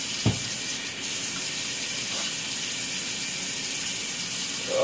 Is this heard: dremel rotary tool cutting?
no